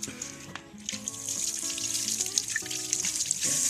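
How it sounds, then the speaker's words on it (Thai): A water hose spraying a Yamaha YZF-R3 motorcycle chain during cleaning, a steady hissing, splashing spray that runs continuously at close range with small fluctuations. "น้ำแรงฉีดไปเลยครับผม"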